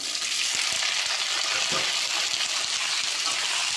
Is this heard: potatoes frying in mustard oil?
yes